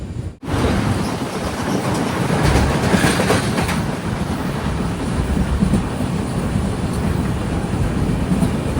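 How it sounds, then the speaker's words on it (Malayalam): Konkan Kanya Express train at a station: a loud, continuous rumble of rolling railcars with clattering wheels, heard close by and without speech. "ഇവിടെ രാത്രിക്ക് പുറപ്പെടേണ്ട കൊങ്കൺ കന്യ എക്സ്പ്രസ് ആണ് ഈ കാണുന്നത്"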